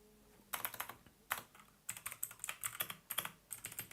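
Fingers type on a computer keyboard in quick, uneven bursts of clicky keystrokes separated by short pauses, close and clear with no talking.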